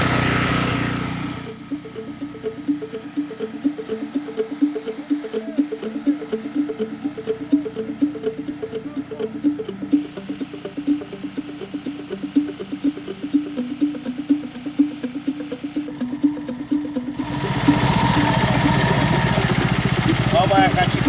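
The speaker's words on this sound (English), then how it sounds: "now the guys are trying to prime the pump so that it starts working" Engine-driven water pump at a road construction site, being primed and then running, a steady rhythmic chugging with periodic knocks that continues for a long stretch, then gives way to a loud, broad rush.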